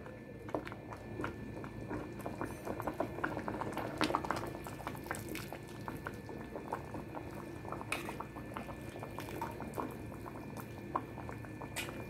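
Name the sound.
cauliflower leaves boiling in water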